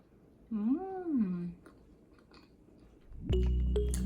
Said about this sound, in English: Now here is the taste test of our cheesiest mac and cheese, and best tasting too.